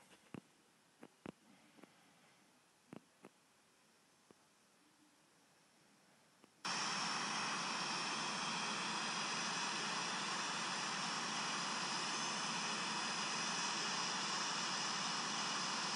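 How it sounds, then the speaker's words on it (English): An Avianca Airbus A318 jet coming in to land in a flight simulator game gives a steady, loud broadband roar. It starts abruptly about halfway through and runs unbroken to the end, after quieter faint ticks and clicks. "Here's an Avianca Airbus A318 coming into land"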